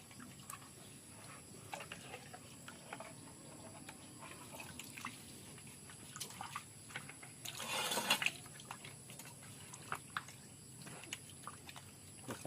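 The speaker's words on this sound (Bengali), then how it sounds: "এখন এটারে পিস পিস করে ধুই নিব।" Pieces of country chicken being washed in water in a home kitchen: faint, steady splashing and dripping with occasional sloshes, and a brief louder rush of water near the middle, no talk.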